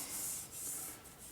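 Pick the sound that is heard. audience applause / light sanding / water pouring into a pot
light sanding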